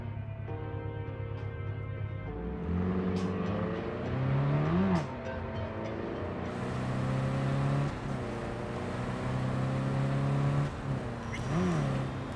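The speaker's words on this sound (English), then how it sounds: "I'll fire up the engine and we'll speed out of there" A car engine in Cyberpunk 2077 idles and then revs repeatedly with rising and falling pitch, moderately close and steady, with no talking over it.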